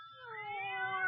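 A cat gives a single drawn-out meow that rises slightly in pitch, clear and close, in a quiet indoor room as part of a radio drama scene.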